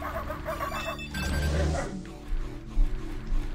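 A corgi's electronic barks fire as shots in the ProtoCorgi shoot-'em-up video game, several short yaps layered over busy game music and effects.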